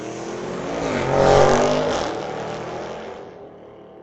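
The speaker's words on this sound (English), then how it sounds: "Nice sounding car." A street legal drag racing car at Mission Raceway roars past as it accelerates down the strip, swelling to a loud peak then receding into the distance as the engine note fades.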